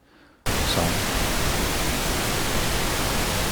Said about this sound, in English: just basically playing the plain old Pink Noise into this guy for the second analysis